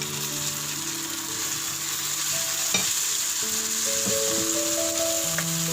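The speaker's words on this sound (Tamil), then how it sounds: "எடுத்து வச்சுருக்கிற தக்காளி ஆட் பண்ணிக்கலாம்." Tomatoes tossed into onions frying in oil for an ennai kathirikai gravy, a continuous bright sizzle with occasional spoon scrapes and light knocks, close up and steady.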